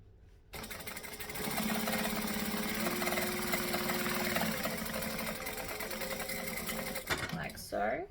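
A sewing machine runs a joining stitch on travel bag fabric, a steady close mechanical whir with rapid rhythmic needle chatter for several seconds before it stops, followed by a brief rustle of handling.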